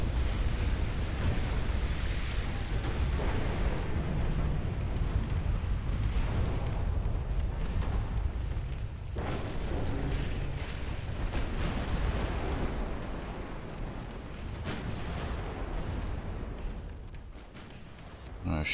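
A ship's magazine flash fire explodes during a naval battle in Ultimate Admiral: Dreadnoughts, a loud sustained roaring blast with rumbling low booms that fades slightly, then rolls on under dense battle noise.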